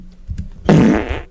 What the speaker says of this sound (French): T'as pété?